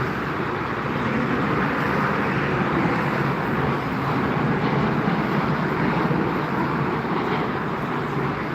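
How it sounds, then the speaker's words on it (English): Saudi Airlines Airbus A320, arriving from Jeddah, lands at Frankfurt Airport. A broad, steady roar of jet noise holds at a constant loudness throughout, with no talk. "So from Jeddah, Saudi Airlines has arrived. Airbus A320"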